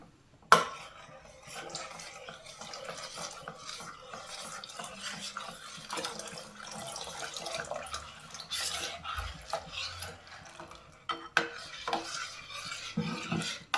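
Coconut milk pudding with cornflour slurry is stirred in a pan over a low flame. A utensil scrapes and clinks softly and steadily against the pan, with a few sharper knocks and no talking.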